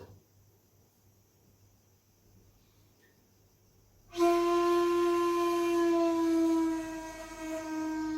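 After a few seconds of near silence, a Japanese bamboo flute (shakuhachi-style lesson) sounds one clear sustained note, tsu, that holds steadily, then softens slightly toward the end.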